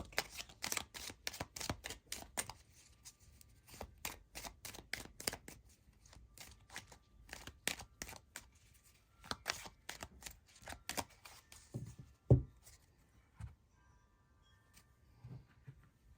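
Tarot cards from an Avalon Magic deck being drawn and shuffled: bursts of crisp card flicks and riffles, then scattered soft taps and a louder slap as cards land.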